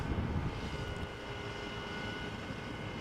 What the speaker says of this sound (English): This is another Embraer 190 KLM, destination Hamburg, 13 years old, first flight July 2009.